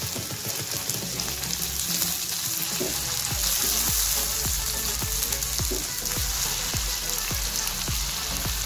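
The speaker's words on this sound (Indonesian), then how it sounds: "Kita tumis sampai harum dulu," Ground spice paste for spicy chicken feet sautéing in a hot pan, a loud continuous sizzle and crackle with faint stirring scrapes, no talking.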